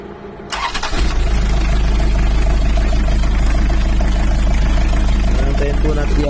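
A Toyota Town Ace engine, treated with F2R, cranks and catches, then settles into a loud, steady idle that continues to the end.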